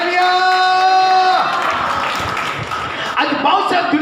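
Congregation clapping together in praise during a Hindi church Bible study service, a dense burst of applause that swells after a sung or spoken tone fades, continuing steadily with voices mixed in.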